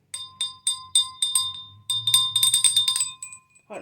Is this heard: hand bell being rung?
yes